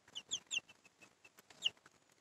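Several chickens cluck and squawk in short, uneven bursts, close by and clear against a quiet background.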